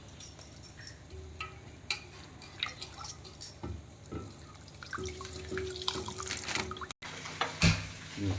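Soaked puffed rice squeezed by hand to press out water, set in a home kitchen while making Rayalaseema-style uggani: wet dripping and splashing in irregular bursts, close and fairly loud, with a brief pause near the end.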